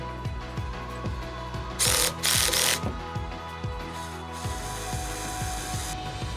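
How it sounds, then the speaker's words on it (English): A 3/8 wrench turns a nylock nut onto a screw while fitting a standing support bar to a Hobie Mirage Passport 12.0 fishing kayak, giving steady close ratcheting clicks broken by two short bursts of louder scraping. "I'm going to use a 3/8 wrench to hold the nylock nut in place"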